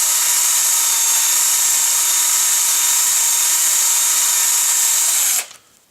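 A drill gun reams out a hole with a 5/32 bit during a landing gear install, giving a loud, steady high-pitched whine for about five seconds before it abruptly stops and fades.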